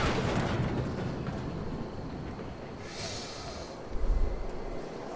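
A train arrives in the Wrestling Empire wrestling video game with a rumbling, hissing rush, a brief bright hiss of released air midway and a low thump near the end, and no one talks.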